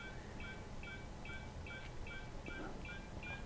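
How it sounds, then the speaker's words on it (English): Repeated short electronic beeps from a warning alert in the Star Citizen space game sound at a steady pace, about two per second, against a constant low rumble of engine and ambient noise. "apart from that beeping noise, you don't really have an indication of where it is"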